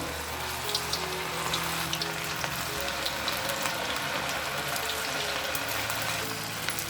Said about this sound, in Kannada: ಈ ಎಣ್ಣೆಯಲ್ಲಿ ಎಷ್ಟು ಹಿಡಿಸುತ್ತೆ ಅಷ್ಟೇ ಹಾಕೊಳ್ಳಿ ತುಂಬ ಜಾಸ್ತಿನೂ ಹಾಕೋಕೆ ಹೋಗಬೇಡಿ